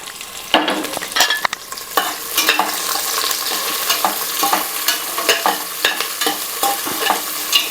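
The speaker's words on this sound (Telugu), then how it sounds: "ముందుగా ఆనియన్ అయితే ఫ్రై చేసుకుంటాం." Onion frying in a pan for a raw jackfruit biryani, a steady close sizzle with frequent sharp scrapes and clatters of stirring throughout, no voices.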